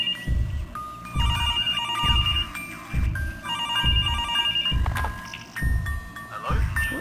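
An old-style telephone bell rings repeatedly in the horror game Mr. Hopps Playhouse, its bursts of ringing overlapping with a steady pulse of deep, regular thuds and faint background game noise.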